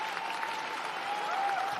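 The audience at a university graduation ceremony in Salford applauds, a steady roar of many hands clapping heard from a distance, with faint whistles or cheers rising over it.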